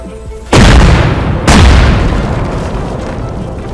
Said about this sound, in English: I'm going to pause right here and fast forward for the explosion